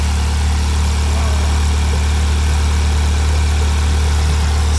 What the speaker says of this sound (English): So the car's running now, as you can hear.